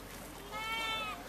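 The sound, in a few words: goat at a rodeo goat-tying event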